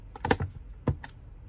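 Plastic cover of a MiO-2B receipt printer add-on being closed and pressed down over thermal paper, giving a cluster of close, sharp clicks followed by two smaller snaps a moment later, with no voices.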